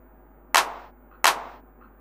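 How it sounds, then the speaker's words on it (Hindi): A clap drum sample plays in FL Studio. It sounds as two sharp, bright claps about 0.7 seconds apart, each with a short decaying tail, alone with no voice. "और एक क्लैप ले लेते हैं परकर्षण में हुआ।"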